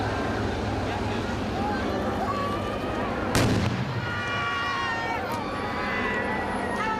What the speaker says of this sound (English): Villagers flee as a simulated improvised explosive device detonates.